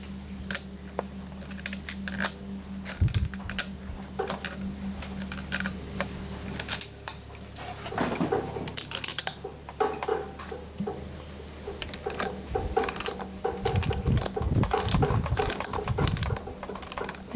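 A Sanden scroll compressor being turned counterclockwise by hand on a workbench, giving a stream of small dry clicks, ticks and scrapes in irregular bursts, close and fairly quiet, with no talking.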